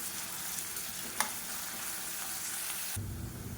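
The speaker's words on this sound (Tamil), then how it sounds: "மீடியமான ஃப்ளேமில் வச்சுட்டு நல்லா ப்ரௌன் கலரில் வர அளவுக்கு வதக்கிக்கலாம்" Sliced onions frying on a medium flame in a pan, a steady close sizzle that carries on throughout, with a brief clink near the middle and a sudden louder burst of frying toward the end.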